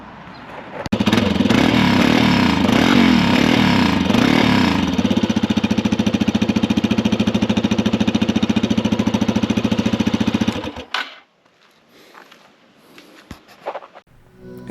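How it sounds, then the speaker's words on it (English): A loud Yamaha XT250 motorcycle engine with its spark arrester fitted idles steadily with a dense, rattling mechanical drone, then cuts off abruptly, leaving a few faint clicks and quiet rustling. "I'll show you what it sounds like with the spark arrestor in too"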